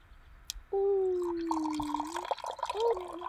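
Coffee poured into a cup in a steady stream, the pitch rising as it fills over a few seconds, close and clear with background chatter.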